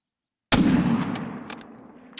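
A single loud hunting rifle shot at a red deer in the video game theHunter: Call of the Wild bursts out of silence, its broad crack rolling into a long fading echo, with a few faint clicks trailing after.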